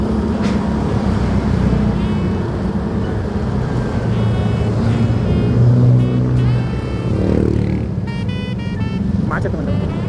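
Congested traffic on a road in Harjamukti, Indonesia: continuous loud engine rumble from cars and motorcycles, with passing revs and a horn-like tone near the end, while someone talks over it.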